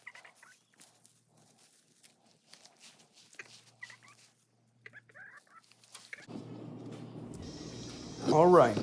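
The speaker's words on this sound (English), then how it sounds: "let's say hi to the chickens." Chickens cluck and squawk close by near the end, louder over a steady low hum, after several seconds of quiet rustling and faint distant sounds.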